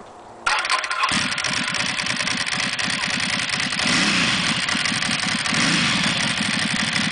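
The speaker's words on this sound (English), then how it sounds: "Ducati S2R 1000 with cord stock exhaust without the upgraded midpipe." After a brief quiet moment, a Ducati Monster S2R 1000 motorcycle engine fires up and settles into a loud, lumpy idle with a throaty, uneven pulse from a cored stock exhaust with stock midpipe.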